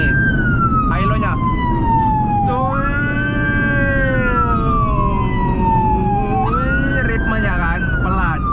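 An ambulance siren sounds nearby in a slow, loud hi-lo pattern, its two tones alternating in long sweeps over rumbling traffic, with brief voices or horn-like bursts in the background.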